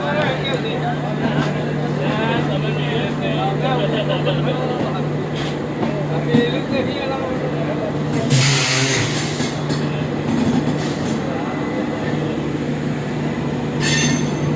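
Intercity Superfast Express train pulling out of platform 4 at Vadodara station, a loud steady rumble with squealing wheels and a constant hum, and people talking throughout.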